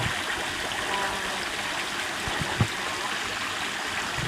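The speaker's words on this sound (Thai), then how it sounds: "ก็นี่ มีน้ำตก" A waterfall near a cafe in Nakhon Nayok pours steadily, a constant broadband rush with no break and one brief soft knock partway through.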